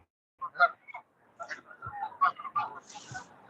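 Birds at a lake, swans and seagulls among them, give scattered honks and calls at middle distance, a quiet, irregular chorus with no talking over it.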